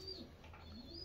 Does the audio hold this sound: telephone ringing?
no